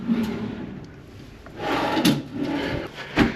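A wooden drawer in a luxury hotel room at the Burj Al Arab slides open and shut with a few soft scraping rubs and light knocks, close by and fairly quiet, with no talking.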